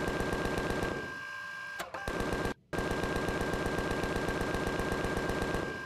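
Rapid automatic gunfire from enemies in the space survival game Empyrion, a dense continuous rattle of shots that briefly drops out twice before resuming at full, steady intensity, with no talking.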